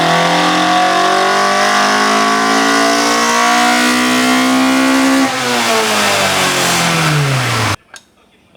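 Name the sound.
Toyota AE86 Trueno engine revving up to rev limiter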